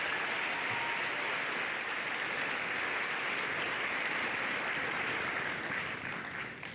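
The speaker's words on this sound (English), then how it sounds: "Can we give them one more round of applause, please?" A school Veterans Day assembly audience claps in a dense, continuous round of applause, steady and loud throughout, tapering slightly at the very end.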